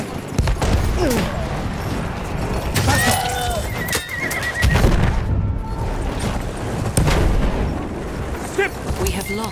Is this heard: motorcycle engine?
no